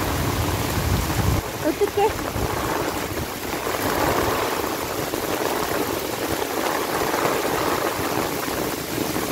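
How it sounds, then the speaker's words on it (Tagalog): Heavy rain in Korea pours in a dense, steady roar with rushing water, while a person speaks briefly near the start. "Super lakas ng ulan."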